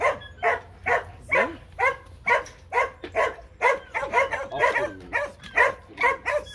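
Several dogs, including Kangals and Chow Chows, bark, yip and whimper in an excited, rhythmic series of close, loud calls, roughly two per second, with overlapping whines.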